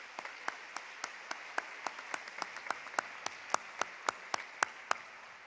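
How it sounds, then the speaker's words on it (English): Audience at a fall convocation claps in a thin, fairly distant round of applause, with distinct individual claps picking up pace and growing a little louder. "please, thank them and give them a round of applause"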